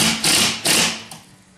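Nail driven through drywall into a wooden stud, three sharp blows in an uneven rhythm, the first two strong and close, the last lighter, with no talking.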